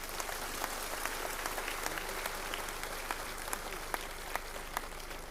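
Steady audience applause fills a Jat assembly gathering in Gujarat, dense continuous clapping from a large crowd with occasional sharper claps standing out, no pause throughout.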